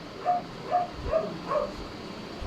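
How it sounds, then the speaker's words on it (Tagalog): A dog barks in the background, giving four or five short, muffled barks at a steady pace. The barking is fairly faint and distant, heard indoors against a low hiss. "Ang ingay ng aso na yun"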